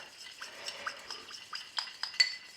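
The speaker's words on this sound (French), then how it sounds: "Je vais juste le mélanger un petit peu avant de l'intégrer" Melted butter stirred in a bowl with a utensil for marbled chocolate madeleine batter: a quick run of light scraping and clinking strokes in an uneven rhythm, close and fairly soft, with no talk.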